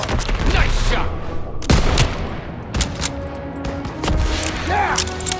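Scattered gunshots and explosions ring out during a World War II stronghold battle in Call of Duty: WWII, with irregular bursts and booms over a steady din of combat and shouted voices.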